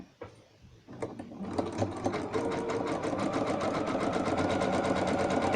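A sewing machine stitching through cushion wadding starts up after a couple of soft handling bumps, then runs in a fast, steady rapid clatter of needle strokes that grows slightly louder toward the end.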